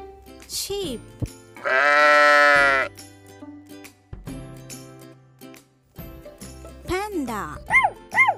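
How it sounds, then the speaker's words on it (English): Sheep bleats ring out as short, wavering cries in a sequence of farm animal calls, with a loud steady bleat midway and a few quicker bleats near the end, mixed with other animal sounds and spoken naming. "Sheep."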